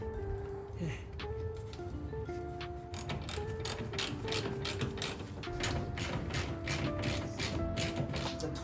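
Close ratchet clicks come in quick repeated bursts as a 17 mm ratchet tightens the nuts on a Honda Prelude rear strut coil during a rear camber arm install, with faint metallic creaks between strokes.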